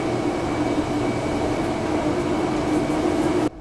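A high-speed electric train arriving at Jecheon station gives off a steady, even rumble and hum inside the carriage, continuous and moderately loud, before cutting off abruptly at the end.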